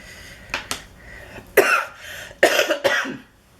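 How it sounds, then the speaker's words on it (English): Person with a cold coughing, several short harsh coughs in quick groups, close and fairly loud in a quiet room. "And I apologize for the coughing."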